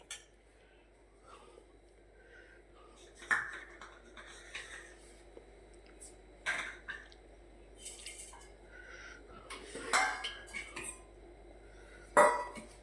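A utensil scrapes and clinks against a pan while sweet potato curry is stirred. The scrapes come in scattered bursts with quiet gaps between them, and a few sharper metallic knocks stand out. No one speaks.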